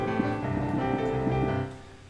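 Anime/J-pop style piano plays a chord on the beat with the melody notes arriving slightly early, a short soft phrase of layered sustained tones that fades at the end.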